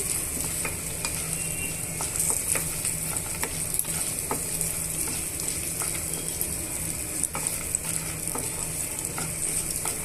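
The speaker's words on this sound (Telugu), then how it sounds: "ఇలా అన్నీ వేయించేస్తామండి స్టవ్ సిమ్లో పెట్టుకొని వేయించుకోవాలి" Peanuts, roasted gram dal, green chillies and curry leaves fry in oil over a low flame for a puffed-rice mixture, a steady close sizzle with scattered crackles and stirring scrapes throughout, no talk.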